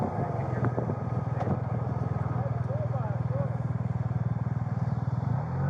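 A police BMW motorcycle engine throbs in a rapid, steady pulsing rhythm during a chase, moderately close with clattering in the background, and a voice speaks briefly over it.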